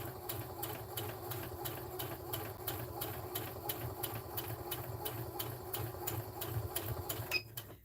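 A sewing machine running steadily as it stitches the channel of a lined drawstring bag, with a fast, even mechanical whir and regular needle clatter, fairly quiet and close.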